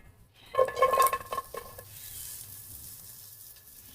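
Chopped onion and about four cloves of minced garlic drop into a little hot oil, giving a sudden loud sizzle with a few clinks of a utensil against the pan. The frying then settles into a softer, steady hiss with no talking.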